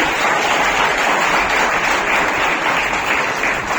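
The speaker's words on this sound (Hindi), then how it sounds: "जोरदार तालियां इन लोगों के लिए।" Loud, dense audience applause for certificate of appreciation winners at an oratory award ceremony, a continuous wash of many hands clapping at once, sustained evenly throughout with no voices on top.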